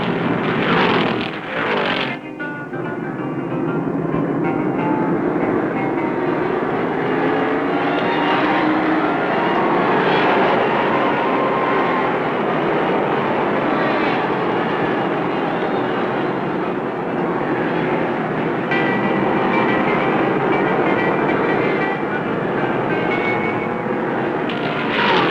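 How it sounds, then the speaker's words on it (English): Stock cars race in the 1969 Daytona 500, a massed engine roar that stays loud and sustained for over twenty seconds as the pack pours out of the high-banked second turn onto the long back straightaway. "all cars pour out of the high-banked second turn and fire down that long back straightaway with Buddy Baker in the lead and Bobby Isaac"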